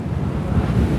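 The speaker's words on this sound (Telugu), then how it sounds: "ముఖ్యంగా ఈ పెసిఫిక్ ఓషన్ నుండి వస్తున్న ఈ బ్యాక్ వాటర్లో మేము ట్రావెల్ చేస్తున్నప్పుడు కొన్ని సందర్భాల్లో 10 అడుగులు ఎత్తులో అలలు వస్తున్నాయి" Ocean waves and wind on a ferry ride across Sydney Harbour, a loud, dense roar of rushing water and buffeting air with no break.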